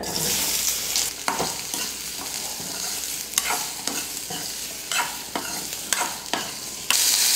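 Onion and green chillies frying in hot oil for a fish curry, a steady close sizzle broken by repeated scrapes and clacks of a spoon stirring the pan, with no talk.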